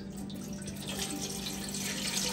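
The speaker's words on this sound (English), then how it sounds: "We need to fill up to the level of this tray with water." Tap water pours steadily into a steam canner, a continuous broadband rush of filling water running unbroken and fairly close for the whole stretch, with no voices over it.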